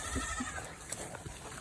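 Goats on a farm bleat a few times at close range over steady outdoor farmyard noise, with short calls standing out near the start and scattered softer sounds afterward.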